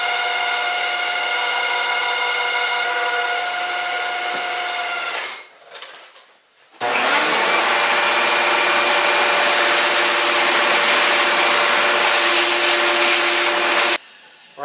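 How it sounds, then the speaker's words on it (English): A power drill bores holes in a metal belt tensioner bracket for a 6.0 LS Roots supercharger build, giving two long, loud, steady whining runs separated by a brief pause, close up and with no talk. "So start drilling this thing now."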